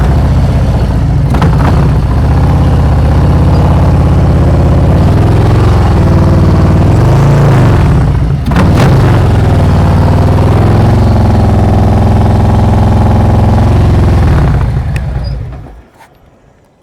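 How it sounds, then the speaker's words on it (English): A motorcycle engine held under throttle through a slow-speed turn, loud and close with a steady rumble and small pitch swells, before dropping away sharply as the bike comes to a stop. "You're gonna hear my engine."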